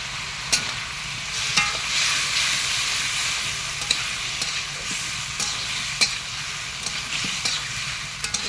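Masala gently sautés in a pan with a soft, even sizzle, punctuated every second or so by the light tap and scrape of a stirring spoon, close and steady with no speech.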